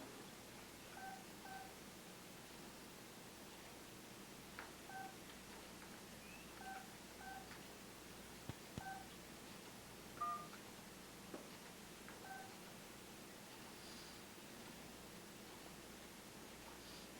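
Telephone keypad tones entering a voicemail password, heard as a series of short, faint beeps spread unevenly over a steady hiss of line noise.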